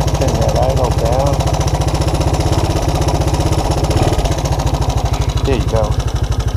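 A Honda Big Red ATC200ES three-wheeler engine idling close and loud with a fast, steady chugging pulse throughout, with someone talking over it.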